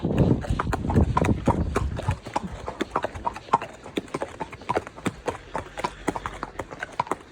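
A horse's hooves clip-clop at a steady walk while out hacking, each step crisp and close, with a voice talking over the first couple of seconds.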